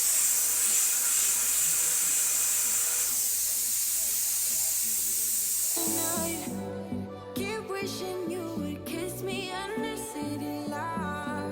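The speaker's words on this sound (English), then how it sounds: "This is how your steamer should sound." A household steam cleaner hisses loudly and steadily for several seconds, then the hiss cuts off and music-like tones take over.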